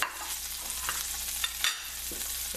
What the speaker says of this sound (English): Now we're going to drop the vegetables in there,